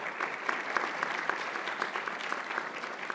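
Applause from a commencement audience at the Henry Ford Early College graduation, a soft, even wash of many hands heard from a distance, steady and unbroken with no voices over it.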